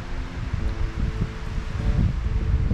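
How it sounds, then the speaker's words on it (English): Strong headwind blows across a lake, a steady, loud, low rumble of gusting air and buffeting that swells slightly toward the end, with no talking. "Blew all night, really windy"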